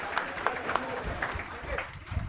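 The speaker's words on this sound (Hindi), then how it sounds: "चलिए एक बार जोर से ताली बजा दीजिए" A class of students claps in scattered, uneven bursts of moderate loudness, with voices talking over the applause.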